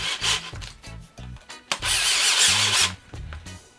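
An electric screwdriver drives screws into a wooden skateboard deck, giving short whirring bursts broken by brief pauses and then a longer sustained grinding run, close and fairly loud with no talking.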